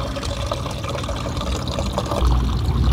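Tap water pours into a container being filled to mix grapevine fertilizer, a steady splashing gush that grows slightly fuller and louder toward the end, close by with no speech.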